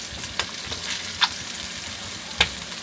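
Eggs frying in a pan inside a vintage Japanese 4WD RV, a steady soft sizzle with a few sharp pops and crackles spaced about a second apart, close by with no talking.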